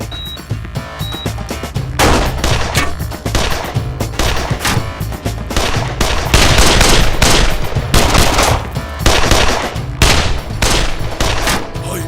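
Heavy gunfire rattles in dense bursts, rapid automatic shots overlapping with louder booming volleys, loud and continuous throughout.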